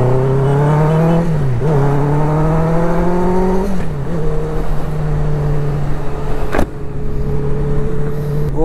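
A loud motorcycle engine, a Triumph Scrambler 400X, hums steadily with harmonic pitch rising and dipping as the rider shifts and throttles on a long ride, close and continuous, with a sharp click near the end.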